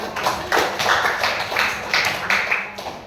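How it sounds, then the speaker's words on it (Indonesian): Students applaud their classmates in a school classroom, a run of uneven clapping bursts that rise and fall in a loose rhythm at close range, with no talk over it. "kasih tepuk tangan untuk teman-teman"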